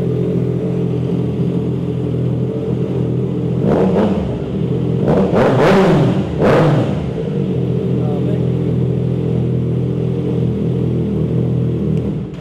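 A Triumph three-cylinder motorcycle with a full-system exhaust idles loudly and steadily, then is revved hard in a few quick blips around the middle before settling back to idle, close by with no talk.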